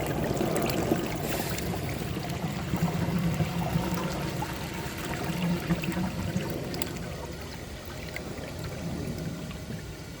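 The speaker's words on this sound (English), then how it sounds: "I'm going to get some water on it so it doesn't float for as long." Water pours onto a bag sitting in the bowl of a 1990 Universal-Rundle Atlas toilet, making a continuous, fairly quiet splashing and trickling wash that lasts throughout with no talking.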